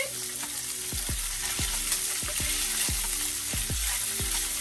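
Already-cooked seafood sautés in a hot pan, a constant sizzle broken by a regular series of sharp knocks as the pieces are pushed around, near and fairly loud, with no talking.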